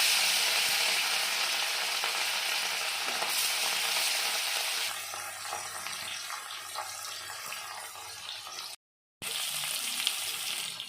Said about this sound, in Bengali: এবার তেল দিয়ে দেব তো আমি মাছগুলো দিয়ে দেবো